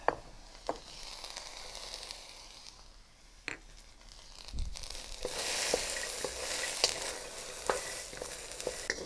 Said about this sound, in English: First, we need to dry fry eggplant